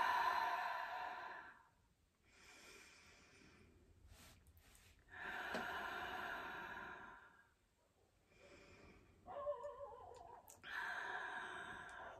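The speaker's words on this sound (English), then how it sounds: "Let's take three solidarity breaths." A group takes three deep, slow breaths together, each a long audible inhale and exhale separated by short pauses, soft and close with no talking.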